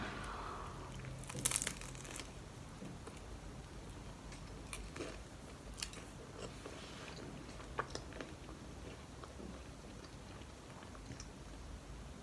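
Quiet chewing of an avocado and egg dish being tasted, soft close crunches and mouth sounds scattered over several seconds with faint crinkling, no talking.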